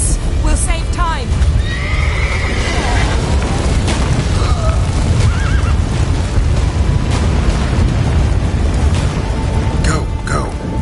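Horse whinnying in The Witcher video game, set against a dense, loud battle soundscape with rumbling booms and explosions; voices can be heard through the din, though hoofbeats are not clearly picked out.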